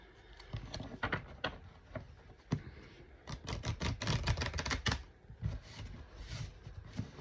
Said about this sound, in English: Let's do a proper shuffle.